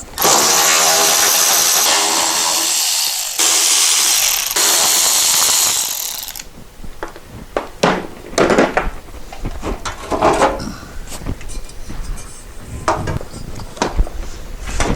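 A hand ratchet clicks loudly and close in long continuous runs, then gives way to choppier clicks, knocks and clanks, as 10mm bolts come off a dune buggy under repair.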